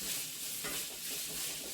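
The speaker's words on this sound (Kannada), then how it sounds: "ಸ್ವಲ್ಪ ಮೀಡಿಯಮ್ ಫ್ಲೇಮಲ್ಲೇ ಇಟ್ಕೊಂಡಿದ್ದೀನೆಲ್ಲ ಫ್ರೈ ಮಾಡ್ಕೋಬೇಕು." Vegetables fry in a pan over a medium flame, giving a steady, close sizzle with faint stirring and no voices.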